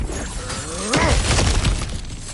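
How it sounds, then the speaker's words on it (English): Kratos smashing through breakable objects in God of War Ragnarok, a loud crashing shatter with a falling whoosh about a second in, followed by scattering debris over a dense game soundscape. "back to smashing through things for fun and profit"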